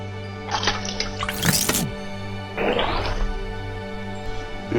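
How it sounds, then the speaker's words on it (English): Water is poured into a pot of soaked chickpeas in a home kitchen, two short splashing pours with a few drips in between, heard close over a steady low hum. "Add the water."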